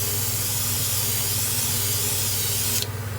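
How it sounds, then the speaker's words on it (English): An airbrush or spray gun misting light purple paint onto a homemade glide bait fishing lure, a continuous close hiss that holds steady throughout and then cuts off near the end. "Below that line we're going to just mist in this light purple."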